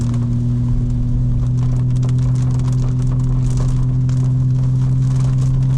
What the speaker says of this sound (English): So you can already tell, pretty decent rainfall